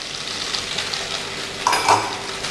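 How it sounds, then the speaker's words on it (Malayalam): Drained vermicelli (semiya) tipped into a pan for upma and stirred in, a steady soft sizzle with a couple of brief scraping clinks near the end, close and moderately loud, no talking. "അപ്പോൾ ഞാൻ സേമിയ കൂടി ചേർത്ത് ഇതിനകത്തോട്ട് കൊടുക്കുകയാണ്."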